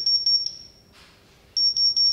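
A construction laser level's receiver signalling that it sits too low: rapid, evenly spaced high-pitched beeps close by, breaking off for about half a second before the fast beeping resumes, with no voices.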